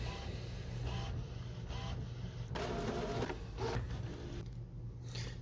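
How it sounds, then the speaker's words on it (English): An HP Photosmart inkjet printer prints an alignment page after a printhead cleaning, with a steady mechanical hum, whirring carriage passes and short feed bursts, heard close and alone. "So after a few minutes, this alignment page prints"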